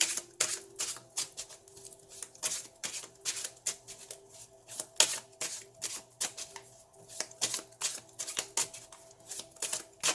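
Tarot cards being shuffled by hand, a rapid series of crisp riffling and slapping bursts repeating steadily and close up, with no talking.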